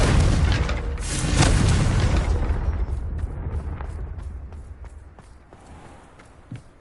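A Confringo explosion spell goes off in the Hogwarts Legacy video game: a loud, rumbling blast that swells over the first couple of seconds, then decays into a quieter tail with scattered faint clicks and footstep-like taps.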